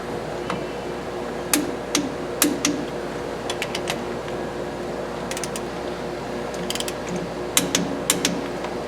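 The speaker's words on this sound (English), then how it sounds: "you're going to torque all 5 of these down in a star pattern again to 115 Newton meters" A torque wrench tightens five wheel lug nuts in a star pattern to 115 newton meters during a brake install. Its sharp, close metallic clicks come in scattered short bursts over a steady low background, with no talking.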